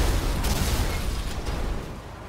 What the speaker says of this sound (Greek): Σκάνε τα αμάξια, μα δεν έχουν οδηγό μέσα,